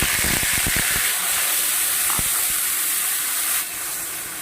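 Ginger, cumin and two green chillies dropped into hot oil for a tempering, a loud, steady sizzling hiss close by, with a few sharp clattering taps early on.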